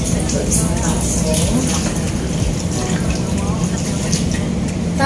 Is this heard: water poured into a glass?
yes